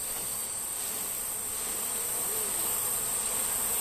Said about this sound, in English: we're going to try and shake most of the bees off